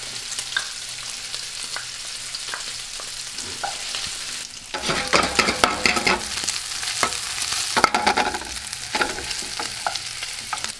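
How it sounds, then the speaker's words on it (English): Chopped bacon and garlic sauté in a pan for clams casino, a steady sizzle with frequent stirring scrapes that grows louder and busier about halfway through, with no talking. "And we start to saute the bacon."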